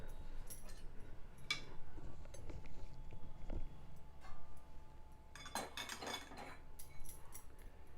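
Roasted dried coconut is scraped from a pan into another bowl, with metallic clinks and scrapes of utensil on cookware in scattered bursts, close and fairly quiet, no talking.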